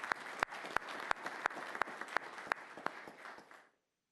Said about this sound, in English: How about a round of applause for our victim assistance?